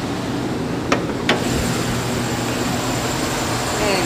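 A 2013 Chevy Silverado Z71 4x4 with its 5.3 liter Vortec V8 idles steadily, a smooth, even rumble close by, with two brief clicks early on.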